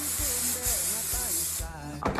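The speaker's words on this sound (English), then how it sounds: "I'm going to use my, hairspray, just kind of like lightly" Hairspray sprays lightly onto hair in a steady, airy hiss lasting about two seconds, close to the mic, with a faint tonal hum and a soft clatter at the end.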